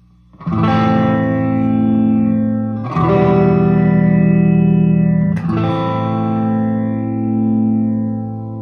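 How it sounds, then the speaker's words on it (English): A sustained electric guitar chord rings out three times, each swelling with a slow, sweeping phaser wash from a Line 6 M13 that rises and falls, loud and alone. "It's just a really slow, kind of a wave phase."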